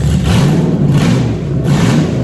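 A loud Jeep engine with dual catalytic converters running close by, a rough, throaty rumble that swells in short revs over about two seconds, with no talking.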